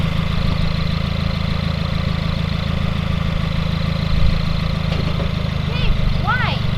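A 2019 Subaru WRX with 4-inch Nameless muffler deletes idles with a steady, throaty, rumbling exhaust drone, close by, while faint voices come and go in the background.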